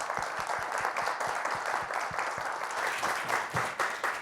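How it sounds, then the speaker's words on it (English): Audience at an environmental leadership conference session applauds the panelists, a continuous crowd clap with distinct individual hand strikes close by over a dense, moderately loud wash. "give a big hand of applause to all our panelists"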